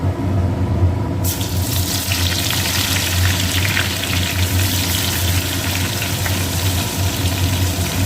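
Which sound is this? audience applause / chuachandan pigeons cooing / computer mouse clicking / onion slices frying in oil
onion slices frying in oil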